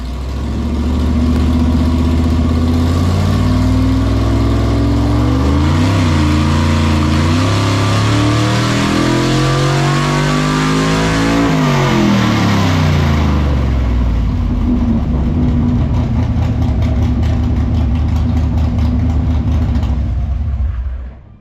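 A carbureted V8 on a dyno with a four-hole carb spacer, one-inch nitrous plate and bigger carburetor roars through a long, very loud pull, its pitch climbing and wavering before dropping away as the revs fall.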